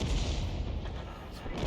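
A 105mm light field howitzer, the leFH18B2, fires in a tank video game, a single heavy booming blast with a deep rumbling tail that fills the short moment.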